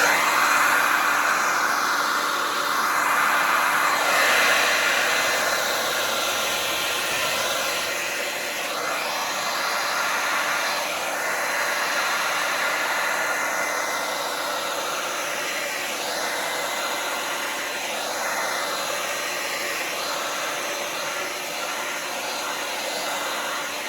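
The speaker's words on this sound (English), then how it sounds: "Get our hair dryer." A hair dryer blows steadily and close over a fluid acrylic Dutch pour painting of a '68 Chevy Nova, a constant whooshing roar that shifts slightly as it moves.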